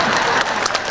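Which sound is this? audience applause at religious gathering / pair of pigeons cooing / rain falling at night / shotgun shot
audience applause at religious gathering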